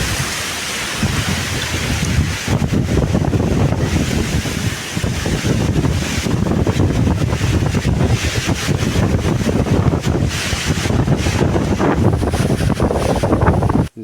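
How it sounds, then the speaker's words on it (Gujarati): Strong wind roars steadily across open farm fields, buffeting the microphone in loud continuous gusts that rise and fall for the whole stretch, with no voices over it. "જો હું તમને બહારનો પવન બતાવું કેટલો પવન આવે છે"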